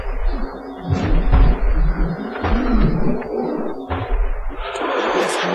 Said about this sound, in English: that's the noise of a heavy Mouton struggling to open a door.